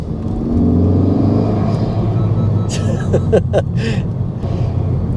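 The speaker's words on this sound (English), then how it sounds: "that induction roar, that suction roar is there and it's evident" A Honda Civic Type R FK2 with an Eventuri carbon intake idles with a steady low engine rumble, then gives several short, sharp throttle blips, each a brief loud rev with induction roar, close by.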